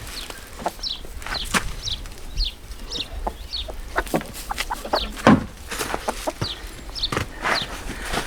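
Three laying hens in a yard on a Portuguese farm cluck repeatedly, with short, sharp clucks and higher squawks scattered over a soft outdoor background, no talking.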